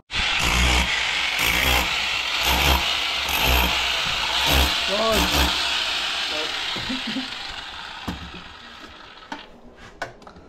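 A rusty motor is test run, chugging in rhythmic pulses that settle into a running engine before it fades and stops with a few clunks. Voices are heard alongside it.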